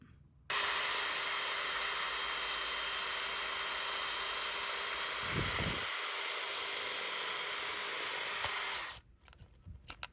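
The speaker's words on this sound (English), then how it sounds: "We're gonna drill that out with a 5/32 bit." A power drill with a 5/32 bit whines continuously for about eight seconds at close range while drilling out a rivet on a truck door handle, its pitch dipping briefly midway, then stops abruptly.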